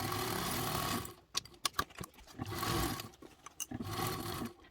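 Sewing machine stitching a seam on a crescent-shaped bag, running in loud bursts of rapid mechanical whirring separated by short pauses and a few quick clicks, close and with no talk.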